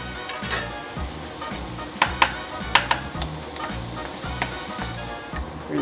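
Garlic dropped into cooked, translucent onions in a soup pot, giving a steady close frying sizzle while a utensil stirs and scrapes with a few sharp knocks, and no one speaking.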